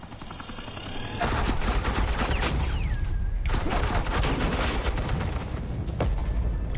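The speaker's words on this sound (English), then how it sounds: "Suppressing fire." Sustained suppressing gunfire in Batman: The Enemy Within, a loud dense fusillade of rapid automatic shots that bursts in after a brief lull and keeps rattling, with a short gap midway.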